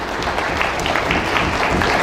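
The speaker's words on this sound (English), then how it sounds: "join me in giving them applause of appreciation" A crowd applauding, dense steady clapping from many hands throughout, fairly loud and even.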